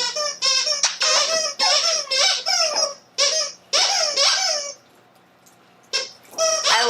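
Dogs squeak a rubber squeaky toy, loud and rapid in repeated bursts, with short pauses between squeezes, close by.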